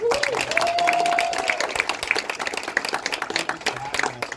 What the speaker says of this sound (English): just another round of applause for our host committee